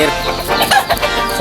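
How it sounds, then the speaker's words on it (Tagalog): Backyard hens clucking up close, a quick run of several loud overlapping clucks in a brief burst. "Ito yung mga inahin ko."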